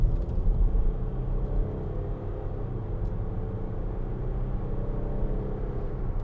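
A 2013 Range Rover Sport 3.0 SDV6 diesel rumbles steadily under throttle, a deep, continuous engine drone with no talk over it.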